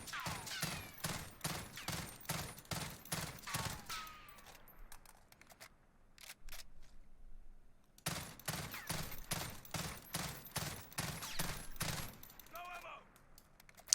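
An FR 556 rifle in Warzone fires full-auto in rapid, evenly spaced bursts, with two long strings of shots separated by a quieter pause with a few single shots, crisp and close.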